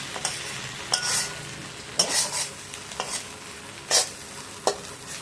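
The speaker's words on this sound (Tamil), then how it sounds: "கொஞ்சோண்டு கொத்தமல்லி போட்டு வறுத்து" Brinjal stir-fry with a little coriander frying in a pan, with a low steady sizzle broken by several sharp scraping stir strokes about a second apart, close up and without talk.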